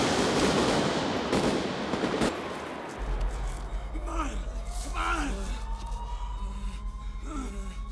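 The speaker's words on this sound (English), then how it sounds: "you feel McCauley's pain when he watches Chris get shot" In the downtown shootout scene from the film Heat, a dense, roaring volley of automatic gunfire dominates the first few seconds. It fades into a low rumble with strained gasps and breaths.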